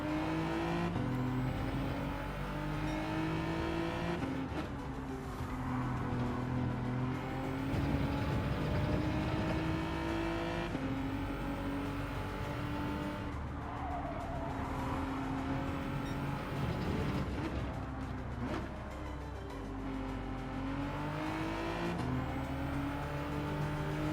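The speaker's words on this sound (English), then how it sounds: "Check out this massive battle with 3 cars right in front of us, all fighting for their spot on the podium." Race car engines in Gran Turismo 7 drone and rev continuously, gear shifts dipping and climbing pitch as several cars battle closely, loud and unbroken with no talk.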